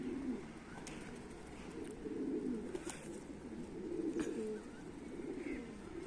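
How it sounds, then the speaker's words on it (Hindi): Domestic pigeons coo in a low, continuous, rolling murmur, with several birds calling close together and faint chirps and rustles scattered above it, no talking. "और परिंदा इनको आवाज़ दे रहे हैं, कोई ख़तरा आ रहा है दूर से"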